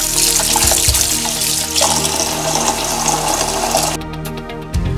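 Tap water runs steadily into a sink as mint leaves are rinsed, a continuous close splashing stream that cuts off abruptly near the end.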